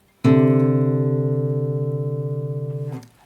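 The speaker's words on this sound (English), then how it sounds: "Let's listen to how the second interval sounds like" A sustained guitar major second interval rings out clearly, slowly fading with a gentle beating pulse before being cut off.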